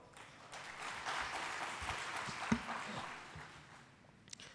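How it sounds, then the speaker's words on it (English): Scattered audience clapping at a food and nutrition security conference, fairly quiet and distant, swelling in the middle with a sharp single clap standing out, then thinning out. "So a big round of applause for all of them."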